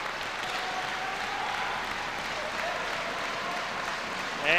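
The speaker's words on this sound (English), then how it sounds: "you hear it from the crowd trying to pump up their man" A crowd at a men's college volleyball match applauds and cheers in a steady wash of noise, with a louder burst right at the end.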